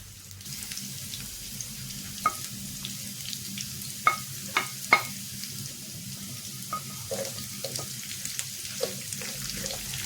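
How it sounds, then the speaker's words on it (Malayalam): Curry leaves and green chillies frying in a pan for a carrot and amla pickle, a steady low sizzle with scattered sharp pops and crackles over ten seconds, no talking. "അങ്ങനെ നമ്മൾ കറിവേപ്പിലയും പച്ചമുളകും കൂടി ഇട്ട് കൊടുത്തിട്ടുണ്ട്"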